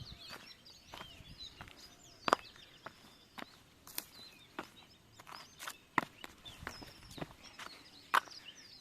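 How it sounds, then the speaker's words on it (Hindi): Birds chirp by a river with blooming lotuses, giving scattered faint calls among sharp, intermittent crunching clicks and footsteps close by. "पक्षियों की आवाज़ यहाँ पर कलरव जो सुनाई देता है बहुत ही मधुर"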